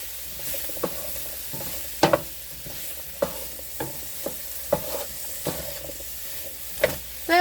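Mushrooms sizzle softly in a pan for chicken marsala while a utensil stirs them, giving repeated scraping strokes over a faint, steady hiss.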